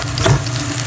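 Minced garlic and chili fry in a hot pan, giving a dense, continuous sizzle with a brief stirring scrape, loud and close with no talk.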